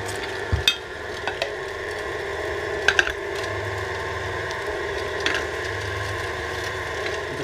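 A meat grinder fitted with a 3 mm plate minces onions and partly frozen meat for homemade Leberkäse, giving a steady mechanical whir with a few sharp clicks and knocks. No one speaks.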